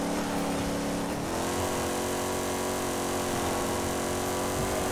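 A front-wheel-drive Oldsmobile Toronado with a big V8 engine drives in the racing game Forza Horizon 5: a loud, steady engine drone with a slight pitch shift partway through, heard continuously and close.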